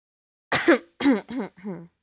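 A single person coughing and clearing the throat: four close, rough bursts in a row, the first loudest and the rest gradually softer, with silence before and between them.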